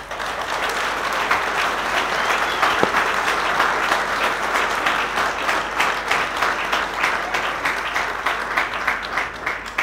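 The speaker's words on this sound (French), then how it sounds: "je demande à tous les cadres et militants présents dans ce congrès d'applaudir chaleureusement tous nos invités" Delegates at a party congress applaud warmly for their guests, a sustained, even burst of crowd clapping that continues without pause throughout.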